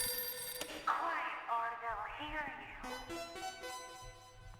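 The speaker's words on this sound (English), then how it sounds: "So I loaded in and answered a ringing phone." A telephone rings inside the horror video game The Classrooms, its bright warbling trills repeating in several bursts over a low hum, fairly close and clear with no talking.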